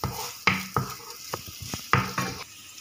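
Vegetables for a homemade vegetable pizza sautéing in a pan: a soft sizzle beneath repeated spatula stirs and scrapes, with several sharp strokes spaced irregularly, close and fairly loud.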